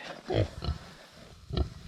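A Kunekune sow grunts beside her newborn piglets, with three short, close grunts spaced across a couple of seconds against a quiet barn background.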